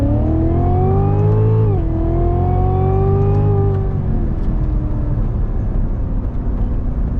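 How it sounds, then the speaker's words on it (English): A Cadillac CTS-V3 fitted with a Corvette Z06 engine accelerates hard in second gear from about 30 mph. The loud, close engine note climbs, dips briefly, then climbs again before settling into a steady roar. "Second gear from 30 miles per hour."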